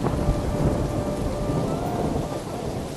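Steady heavy rain pours throughout, with a deep rolling rumble of thunder underneath, close and continuous.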